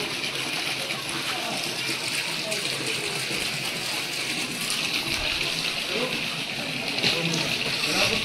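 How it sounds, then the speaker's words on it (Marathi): People bathe in a hot spring water tank at a temple, a constant rushing of water mixed with splashes and sloshing, fairly loud and close, with voices talking over it. "कुंडामध्ये बरेच जण आंघोळ वगैरे पण करतायत."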